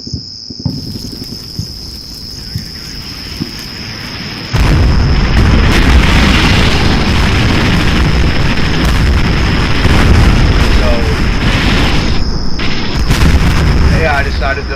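Artillery bombardment in the war game Combat Mission: Shock Force: a dense, continuous roar of rumbling explosions sets in abruptly and holds loud for the rest of the stretch, after a quieter opening with a steady high-pitched whine.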